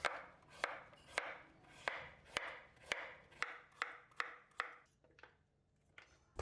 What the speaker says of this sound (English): Slice the pumpkin thinly.